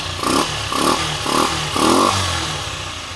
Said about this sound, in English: that's running strong